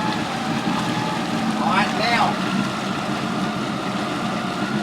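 A 2008 Yamaha SX230 High Output boat's engine runs steadily at speed, a continuous broadband rumble with wind and water noise, with a voice talking over it partway through.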